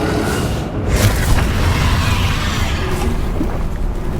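Bombarda spell explosion in the Hogwarts Legacy video game, a loud sustained booming roar of blast noise that rumbles continuously with a few swells, dense and close with no speech.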